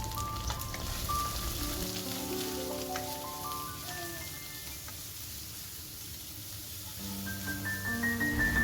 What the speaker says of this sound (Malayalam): എണ്ണയിലൊന്നിട്ട് നന്നായിട്ട് മൂപ്പിച്ചെടുക്കാം.